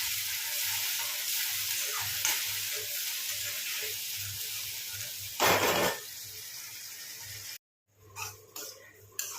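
A tomato, onion, ginger and garlic puree sizzles in a pan for rajma curry, a close steady frying hiss with a brief louder burst of stirring, then a sudden cut to silence and a few scattered pan sounds.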